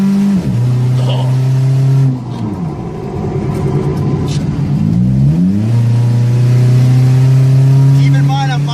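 A Honda Civic, a front-wheel-drive off-road build, drives close by with its engine revving, dipping and climbing again in loud, sustained surges as people talk over it.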